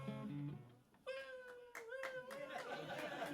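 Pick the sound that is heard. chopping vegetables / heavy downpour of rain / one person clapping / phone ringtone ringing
one person clapping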